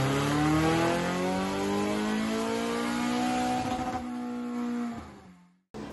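A Ferrari 488 GTB with a Novitec N-Largo widebody and an aftermarket exhaust revs hard, its high-pitched engine note climbing steadily, loud and close, then cutting off sharply near the end.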